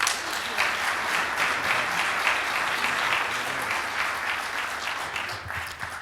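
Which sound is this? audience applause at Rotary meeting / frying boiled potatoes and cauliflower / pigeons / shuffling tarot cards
audience applause at Rotary meeting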